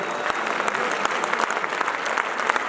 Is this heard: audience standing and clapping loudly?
yes